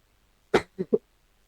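Three quick coughs in a row, one stronger followed by two shorter ones, close and clear against near silence.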